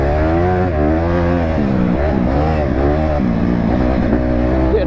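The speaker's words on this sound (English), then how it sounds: "look at that DRZ spinning" A Suzuki DR-Z supermoto spins its rear wheel in sand, its single-cylinder engine revving loud and close in continuous rising and falling surges for the whole stretch, with no talk.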